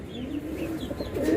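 Soft, low cooing of a racing pigeon in a loft, steady and close, over a constant background hum, with faint higher bird calls now and then.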